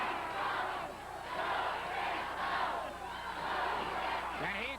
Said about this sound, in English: Crowd is exhorting Benoit